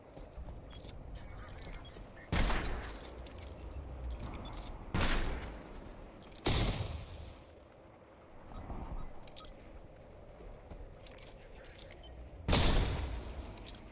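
Exchange of shots in the video game Selaco: four loud, sharp gunshot blasts spaced several seconds apart, each with a short decaying tail over a low steady ambient hum.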